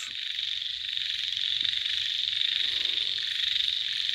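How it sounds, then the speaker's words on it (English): Grasshoppers sing in a rice field in the late evening after rain. Their steady, shrill, continuous chorus is loud and fills the air without a break. "You hear the grasshoppers"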